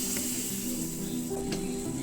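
A steady, soft sizzle and bubbling of tomatoes simmering with a little water in a pan, continuous and close, with a low background hum.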